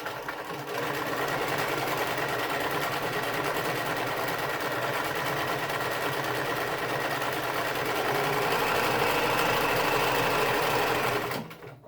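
A sewing machine runs at fast speed stitching a decorative leaf pattern, a loud, steady whirring motor that starts abruptly, holds for about ten seconds and stops at the end, with no talking.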